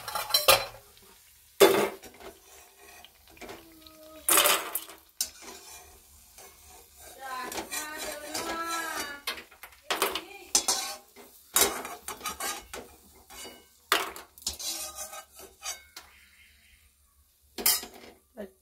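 Fried lentil dumplings are scooped from oil into a pot, with loud metal clattering of spoon and vessel in irregular bursts over a low sizzle, close up.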